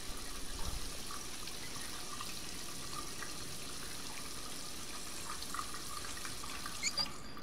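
Running tap water at a sink while hands are washed in the video game Heavy Rain, a steady close splashing hiss with brief louder splashes near the end.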